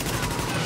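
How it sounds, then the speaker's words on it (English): Rapid, dense gunfire from The Division video game, loud and continuous across the short moment, with shotgun blasts mixed into a steady barrage and no clear pauses between shots. "Oh yeah, it's a shotgun, bro."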